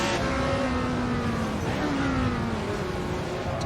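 A 1967 Formula 1 race car engine in Assetto Corsa, at the South African Grand Prix, whines at high revs with pitch sliding down and up between gear changes, moderately faint beside a car running close alongside.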